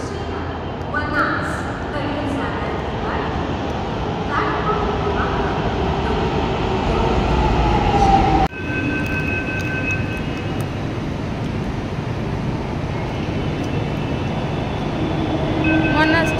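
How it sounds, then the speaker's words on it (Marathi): A metro train rumbles steadily into a station, with a loud rush building and a squealing brake tone near the middle, under a crowd murmur. "मेट्रो आले आता"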